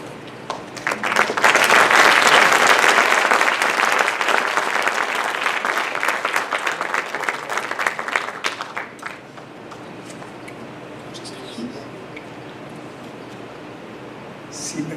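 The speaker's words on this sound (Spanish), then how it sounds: "Si me van a aplaudir otra vez más" Lecture audience bursts into loud applause that builds quickly, stays dense for several seconds, then fades out around the ninth second into quiet room tone with faint stray sounds.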